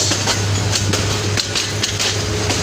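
Loud, steady rumble of a Bangladeshi intercity train rolling close past a station toward Dhaka, with rhythmic clanks and knocks from the wheels over the rails.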